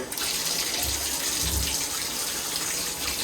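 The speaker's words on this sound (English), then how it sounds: "The real thing right now is to just give this a proper rinse." Tap water gushes steadily over a rusty metal part being rinsed, a close, continuous splashing flow with some low sloshing as the piece is moved in the stream.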